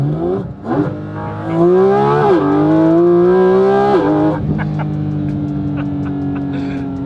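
Porsche 997.2 GT3 RS fitted with a Dundon plenum and tune, heard loud from inside the cabin as the engine revs up through rising harmonic sweeps, dips between gear changes, then settles into a steady drone.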